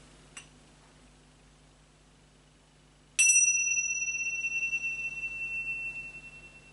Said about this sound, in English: I'll ring the bells at the start and the end.